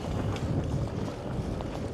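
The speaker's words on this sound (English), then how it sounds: "Crosswind." Crosswind on a solar bike tour near Muhu, Estonia, buffets the microphone as a continuous low rumbling roar, close and steady, with no voices.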